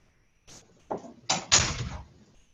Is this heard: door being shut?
yes